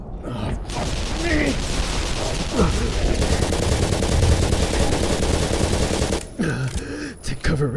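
Dense, sustained gunfire from a shooting video game, rapid bursts overlapping into a loud barrage for several seconds, with a voice talking and groaning over it before a brief pause near the end.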